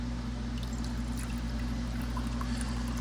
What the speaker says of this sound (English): We're gonna pour this in our cup like so.